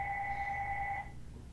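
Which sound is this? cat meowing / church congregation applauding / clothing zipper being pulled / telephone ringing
telephone ringing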